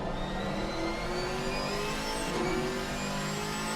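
A 6.2 litre Chevrolet LT1 V8, as used in the Camaro SS, drives a GT4 race car in a racing video game, producing a continuous loud engine drone with rising pitch as it revs.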